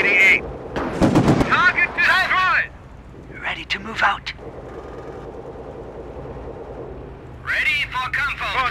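Gunfire and artillery crackle and thump in the WWII strategy game Company of Heroes, with the Blitzkrieg mod and Luftwaffe units, as bursts of shots sound under frequent shouted unit voice lines and radio-like callouts.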